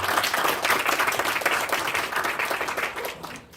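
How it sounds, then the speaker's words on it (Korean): Listeners at a sports AI big data conference applaud a presenter, producing a brief burst of lively, fairly close clapping that thins out toward the end. "다시 한번 큰 박수 부탁드리겠습니다."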